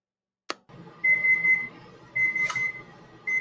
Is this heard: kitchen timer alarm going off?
yes